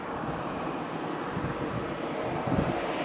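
An EasyJet Airbus A319 jet roars steadily at Madeira Airport, a broad, moderately loud engine rush that swells slightly toward the end.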